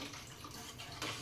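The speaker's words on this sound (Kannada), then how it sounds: "ನೀರು ಹಾಕ್ತಾ ಇದ್ದೀನಿ" Water poured into a pot of tomato rasam, a steady splashing pour that grows brighter and louder near the end, heard alone at close range.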